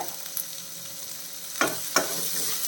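Shallots sautéing in a pan over a medium flame, a soft steady sizzle broken by two sharp scraping stirs of a spoon against the pan.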